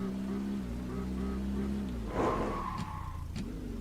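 A single cab pickup truck brakes hard from about 40 mph: a steady engine drone, then a brief tire squeal and a jolt as it stops, with faint noises afterward.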